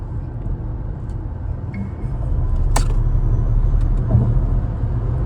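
Steady road and motor roar of a VinFast VF6 electric car at top speed, with broad rumbling noise that swells slightly louder midway; brief faint clicks over the top.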